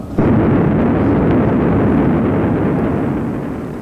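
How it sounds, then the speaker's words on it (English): A sudden loud blast followed by a sustained deep, rumbling roar that slowly fades, a violent explosive basalt volcanic eruption. "But not all basalts are erupted without violent explosions."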